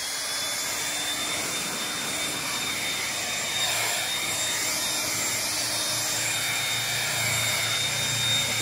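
Parkside Performance 40V cordless turbine leaf blower running at speed four, a loud steady jet-like rushing whine with a faint tonal hum, continuous and close throughout.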